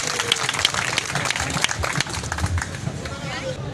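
An audience at a Karachi electronics dealers' gathering applauds a speaker: crowd clapping and murmuring babble blend with a voice talking over them, the clapping steady and moderately loud throughout.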